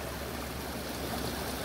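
Water from a waterfall spills into a natural swim pond with a continuous, close rushing and gurgling, loud and unbroken from start to finish, with no voices.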